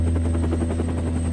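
A helicopter's rotor throbs steadily and close, a fast rhythmic chopping over a deep engine drone and high whine, with no voices.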